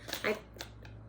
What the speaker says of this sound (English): I'm still shuffling, like every card has come out of this deck already.